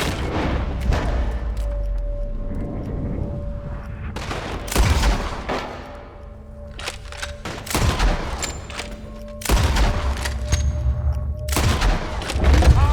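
Rapid bursts of gunfire and heavy booms from a Red Dead Redemption II shootout, loud volleys coming in clusters with quieter gaps between, mixed with faint shouting.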